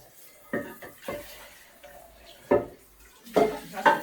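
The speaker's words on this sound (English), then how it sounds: "And Big Bro is helping with the washing up" Dishes clinking and clattering during washing up in a home kitchen, several sharp knocks spaced irregularly with quiet gaps between, close by and moderately loud, no speech.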